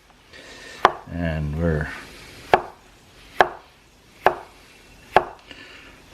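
An ENOKING chef's knife cuts peppers for a vegan pizza. It strikes a cutting board in sharp, evenly spaced chops, about one each second. A voice speaks briefly near the start, before the steady chopping begins.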